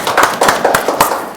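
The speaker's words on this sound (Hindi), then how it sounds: "ताली बजाते हैं, धन्यवाद करते हैं।" A church congregation at a Sunday meeting breaking into applause, a short burst of close, rhythmic clapping with several sharp claps in quick succession.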